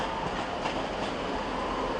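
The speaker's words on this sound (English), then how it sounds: "A somewhat unusual, but not that unusual, Arriva Trains Wales 158, 841, coming in from somewhere in South Wales" Arriva Trains Wales Class 158 diesel unit 158841 pulling into Manchester Piccadilly from South Wales, a steady close rumble with wheel clatter and rail noise throughout, no voices.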